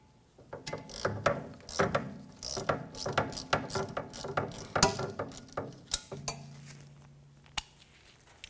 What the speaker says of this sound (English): remove this bolt here,